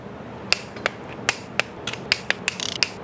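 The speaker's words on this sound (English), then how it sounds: "Now we're torquing the head bolts" Ratcheting wrench clicking in short bursts while cylinder head bolts are torqued in sequence on a Pontiac LS engine, sharp metallic clicks spaced irregularly, then a quick rapid run near the end, close up with no talk.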